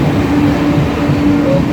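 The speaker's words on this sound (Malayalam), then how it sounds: "ഒരിടയ്ക്ക് എല്ലാവരും കാണാൻ വേണ്ടി വന്നിരുന്ന ഒരു ട്രെയിനാണ് കേട്ടോ വന്ദേ ഭാരത്." A Vande Bharat express train runs through a station on a rainy day, a loud, steady rumble of wheels and rails with a low drone and faint whining tones throughout, close and continuous with no voices.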